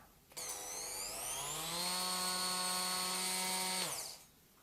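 A VAVA 3-in-1 immersion blender with its whisk attachment whirs up to speed, holds a steady high motor whine for about three seconds, then quickly winds down to quiet.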